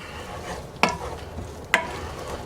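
Minced garlic sizzles in a pan for shrimp and veggie pasta, a steady soft frying hiss. It is broken by two sharp clicks of a utensil against the pan, close and moderately quiet.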